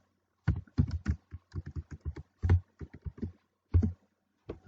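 Computer keyboard typing a MongoDB query, in bursts of rapid close key clicks separated by short pauses, clear and moderately loud with no talking.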